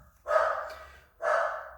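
A dog gives two deep, close barks about a second apart in an otherwise quiet room.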